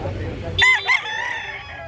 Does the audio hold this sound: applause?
no